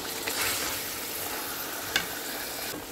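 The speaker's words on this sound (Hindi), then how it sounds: "पाँच मिनट मटन ऐड करके इसको मैंने भूना है" Mutton pieces sizzle in a pan while being fried for Peshawari namkeen gosht, a soft, steady crackle with one brief metallic clink partway through and no talking.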